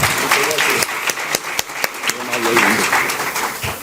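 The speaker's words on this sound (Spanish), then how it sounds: "Un aplauso, por favor" An audience claps as a former president is invited onstage at a leadership talk, with scattered loud individual claps over crowd noise and voices.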